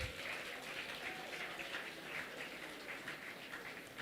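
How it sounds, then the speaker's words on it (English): Conference delegates applaud first responders at a party conference of delegates in Saint Lucia, a steady, even wash of crowd clapping that holds at a moderate, fairly distant level throughout without breaks. "I want you to give them a special round of applause."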